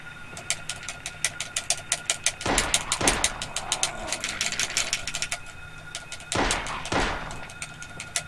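Rapid repeated gunshots from an enemy in Silent Hill 1, a steady fast rhythm of sharp cracks with a couple of heavier rumbling bursts, loud and close, with no talking over it.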